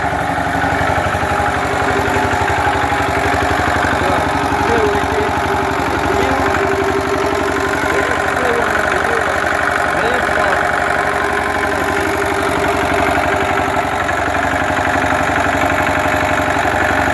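A Lister diesel engine running, a loud continuous mechanical drone with a steady rapid beat, unchanging from start to finish.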